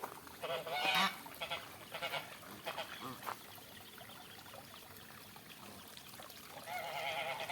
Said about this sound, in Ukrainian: то це гусак це нерозумний